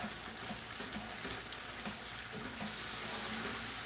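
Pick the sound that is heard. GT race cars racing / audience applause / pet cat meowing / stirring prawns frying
stirring prawns frying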